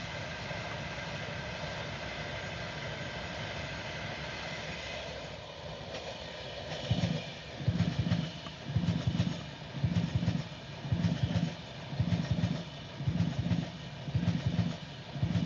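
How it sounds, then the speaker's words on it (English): A Pendolino train passes on a rail line as a steady broad rush, and after a few seconds a loud, regular rhythmic clatter of wheels over rail joints rises up close. "And here comes another Pendolino."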